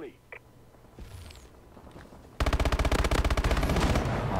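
Rapid automatic gunfire from the video game Call of Duty: Advanced Warfare opens up midway as a loud, sustained burst of evenly spaced shots, after quieter shuffling and faint game sounds.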